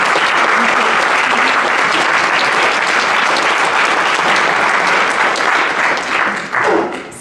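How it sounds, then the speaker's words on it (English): Ceremony audience at the 2016 Peter Singer Prize gives sustained loud applause, many hands clapping evenly for about seven seconds before it thins out near the end. "Give yourselves a round of applause."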